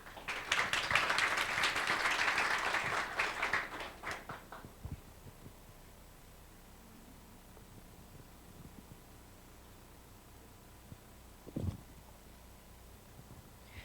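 Audience applause for presenters at a corporate knowledge-sharing event, a short burst of clapping from a moderate crowd that fades within about four seconds, leaving quiet room tone and a faint thump.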